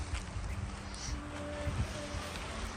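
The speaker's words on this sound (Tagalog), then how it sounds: "medyo malakas ho ang hangin" Strong wind at a campground roars and buffets steadily across the microphone, a dense, continuous rumble with faint background noises underneath.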